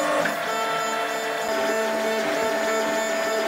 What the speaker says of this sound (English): I'm using both Tazzies to print the parts because we've got quite a lot of printing to do for this